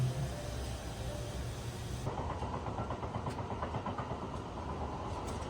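Inside the RAKU Limited Express, a steady rumble of the train riding on its rails carries on throughout, with rhythmic clacking from the wheels over the track joints.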